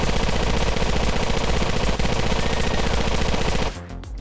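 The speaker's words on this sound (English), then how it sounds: "M249 Saw LMG" Sustained automatic fire from an M249 SAW light machine gun in GTA IV, a loud, continuous rapid rattle of shots that cuts off abruptly near the end.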